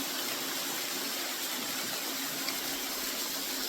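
A moderate waterfall pours into a pool, making a steady, dense, even rush of falling water that fills the scene with no voices.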